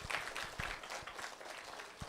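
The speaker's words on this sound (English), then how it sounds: "Give her applause." Audience applause for a guest at an event, a light, steady patter of clapping that carries through the whole short stretch at moderate level.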